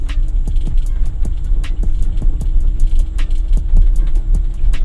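A car engine idling steadily as the throttle is eased open slowly, a loud, close, even rumble with a regular pulsing beat and no voices.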